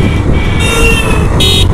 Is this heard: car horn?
yes